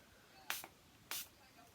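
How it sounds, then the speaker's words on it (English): Two short bursts of Revolution makeup setting spray, a quick double puff and then a single longer hiss, close and crisp against a quiet room. "I'm going to take some of my Revolution setting spray"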